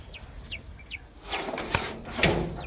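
A Golden Puff hen with chicks clucks softly nearby amid a few high, sweeping peeps, with quiet rustling and light knocks in the background.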